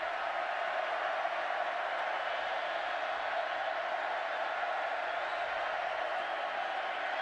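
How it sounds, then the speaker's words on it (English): A college football stadium crowd in Waco roars on a third down during Oklahoma versus Baylor, a steady, broad wall of distant crowd noise with no distinct claps or voices. "Crowd knows it. Getting loud here in Waco."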